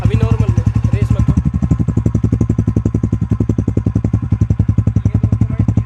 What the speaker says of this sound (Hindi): ये दोस्तों भाई TVS रेडियो का आवाज़